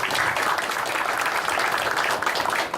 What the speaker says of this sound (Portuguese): eu solicito uma salva de palmas para os nossos componentes.